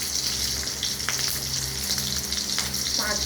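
Bay leaves and two or three green chillies hit hot oil in a pan for a Bengali ash gourd dish, giving a loud, steady sizzle with occasional stirring scrapes, close and uninterrupted by talk.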